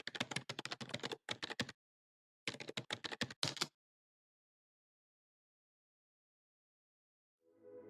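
Rapid typing on a computer keyboard, close and crisp, in several bursts of keystrokes separated by short pauses, then silence.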